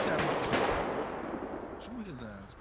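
Gunfire in the video game GTA RP comes as a few heavy booming shots up front, fading into reverberation, while someone talks over the tail end.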